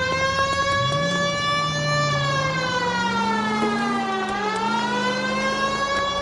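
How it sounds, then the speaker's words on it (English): A police car siren in the video game L.A. Noire wails, rising and falling steadily, loud and close, with a continuous electronic tone and no voices. "This would be a lot easier with the siren on"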